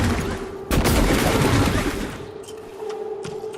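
Glue cannon firing in the sci-fi video game Prey: a dense burst of rapid bursty blasts, loud and close, tapering into a few scattered shots and a steady hum with no talking.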